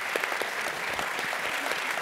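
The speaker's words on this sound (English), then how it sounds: "I want to really just applaud this panel" A forum audience applauds a panel on Latino entrepreneurship with steady, moderately loud clapping and distinct individual claps popping through the wash.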